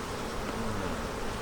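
Dense, continuous buzzing of many honey bees around frames from an overwintered nucleus hive outdoors in spring, a close, steady droning hum with no break.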